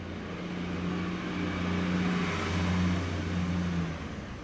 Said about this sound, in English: This bus is here, man.